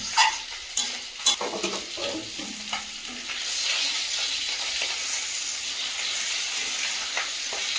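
Fish frying in a pan, for a spicy Bengali small-fish dish, gives a steady, close sizzle and hiss throughout, with a few sharp clicks and scrapes of stirring near the start.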